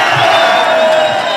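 A crowd at a Glasgow rally cheers and whoops loudly as a speaker is called to the stage, a dense roar of voices with shouts rising above it, sustained and close.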